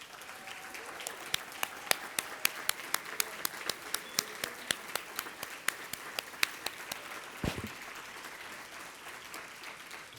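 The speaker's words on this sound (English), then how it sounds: "please rise for a round of applause" An audience at an organization's annual report and keynote claps continuously, a dense wash of hands with some sharp individual claps standing out, moderately loud and steady.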